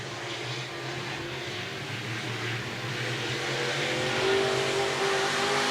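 Several sprint car engines roar steadily on a dirt track at Park Jefferson Speedway, a continuous loud drone with a rising whine as cars pass close by, with no talking.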